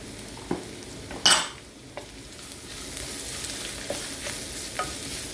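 Onions being stir fried in a pan for Thai basil shrimp, a steady soft sizzle with a sharp scrape and clatter of a utensil against the pan near the start and lighter taps after, no talking.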